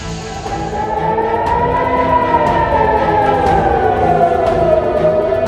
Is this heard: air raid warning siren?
yes